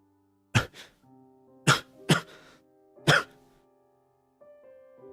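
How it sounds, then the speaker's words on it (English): A male character in the video game Punishing: Gray Raven coughs four times in sharp, close bursts, two of them coming in quick succession, over a soft, steady musical backdrop. "A cough erupts from him, then another"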